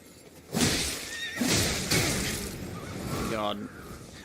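A horse whinnies in the Dark Souls video game, heard as a series of loud, wavering neighs with clattering game effects underneath, close and prominent.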